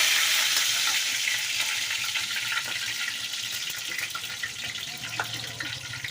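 Mustard seeds, cumin, curry leaves and mint fry in hot oil for rava kichadi, a dense, steady, close sizzle that crackles throughout with faint popping and no voices.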